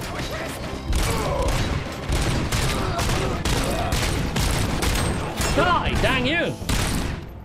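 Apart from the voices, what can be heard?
gunfire in video game Robocop Rogue City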